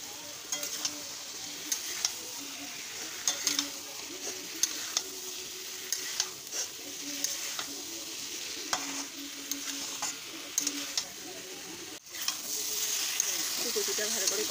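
Boiled taro stirred in a frying pan for a curry with hilsa fish head, steady sizzling and frying under scraping spatula strokes, close and continuous, with a louder rush of sizzle near the end.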